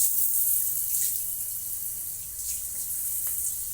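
Water streams steadily from a large shower head in a continuous, even hiss that holds at the same level throughout, close and alone.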